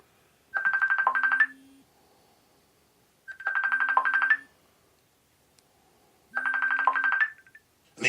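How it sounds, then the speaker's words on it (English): A telephone ringtone trills in three evenly spaced bursts of about a second each, separated by near silence, clear and fairly close. "I'm gonna answer this phone."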